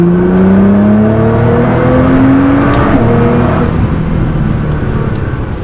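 Nissan GT-R accelerating hard in third gear, a loud, steady engine roar climbing in pitch from inside the car with no pauses.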